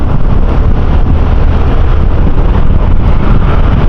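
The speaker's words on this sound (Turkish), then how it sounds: "Birazcık rüzgar var arkadaşlar kusura bakmayın." Loud, constant wind buffets the microphone, a thick low roar that fills the whole moment without pause.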